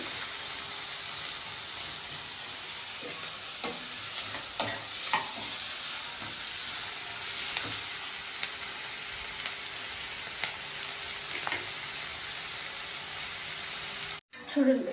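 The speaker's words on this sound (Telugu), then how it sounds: "ఇవి బాగా కలర్ రావాలండి ఆనియన్స్ బాగా ఫ్రై అవ్వాలి" Onions fry in a pan over high heat with a continuous sizzle and scattered spatula scrapes and taps, while a voice speaks briefly, ending in a short pause and a clatter.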